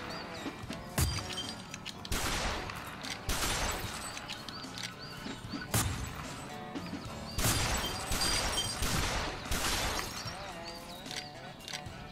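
Rapid bursts of shots and crashing hits in a duck hunting video game, repeated every second or two and loud, with people talking over the action.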